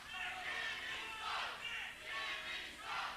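A wrestling crowd jeers Jimmy Rave at an independent wrestling event, a loud swelling roar of many voices rising and falling in waves, filling the whole hall without pause.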